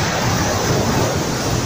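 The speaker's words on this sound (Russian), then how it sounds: "Еще раз вам сниму вот это замечательное море." Sea waves on the Albanian coast at sunset give a constant broad roar of surf mixed with wind buffeting the microphone, close and steady throughout.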